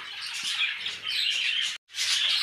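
Parrots, including rainbow and light-wing opaline colour varieties, chirp inside an aviary: a dense, continuous flock of close, high tweets and squawks with one brief pause.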